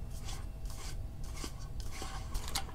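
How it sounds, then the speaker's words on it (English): Lavatory-mounted soap dispenser part being screwed onto a threaded post, a faint, close rasping and scraping of rough rubbing strokes under a low hum. "That gets threaded onto the threaded post."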